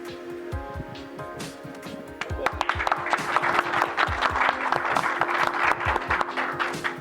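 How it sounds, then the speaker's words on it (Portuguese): An audience applauds guests at a Brazilian literary interview event, steady clapping that swells louder partway through and continues as a dense crowd of hands to the end, with a faint voice underneath. "Essas palmas para os nossos convidados, o Marçal"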